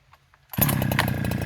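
A Farmertec 372xp chainsaw starts up after a near-silent moment and settles into a loud, close, steady idle with a slightly uneven, low-set rhythm.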